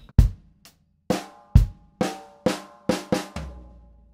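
One bar of a rock drum groove for a Grade 3 lesson ends in a snare and floor tom fill: steady kick and snare hits give way to a quick run of strikes and a final booming tom, played close and alone.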